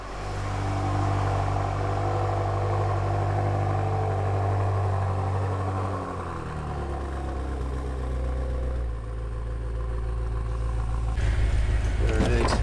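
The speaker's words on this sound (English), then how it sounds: "That's a stock exhaust for you guys, and it sounds awesome." A Volkswagen Golf R on its stock exhaust rumbles nearby, a loud, deep idle that dips and rises in pitch as the engine note changes, with a brief rattle toward the end.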